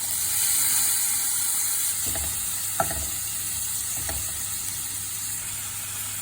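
Onion frying and sizzling in a pan during a Filipino pork belly and winged bean sauté, a steady close hiss with three brief stirring scrapes, no talk.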